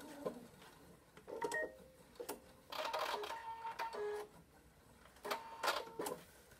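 Sewing machine making a backstitch, quiet short runs of rapid stitching in several separate bursts with pauses between them.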